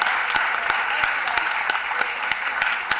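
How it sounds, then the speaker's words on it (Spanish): A theatre audience applauds after an a cappella song at a concert in Pontevedra, a dense, steady wash of many hands clapping close and loud, with a few sharper individual claps standing out. "un fuerte aplauso"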